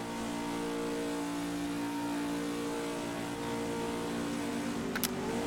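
A GTE race car at Le Mans in a sim-racing video game revs hard while trying to escape a gravel trap. The engine holds a steady, loud, droning whine throughout with no talk.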